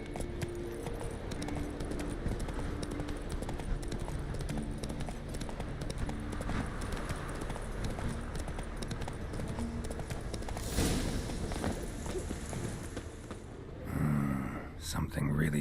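Roach, a horse in The Witcher 3, clopping along with a steady rhythm of hoofbeats under game music and voices, a brief louder scuff near the end.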